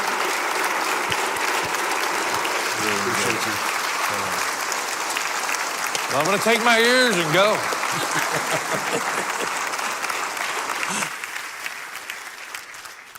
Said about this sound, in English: can we give him a round of applause and say thank you?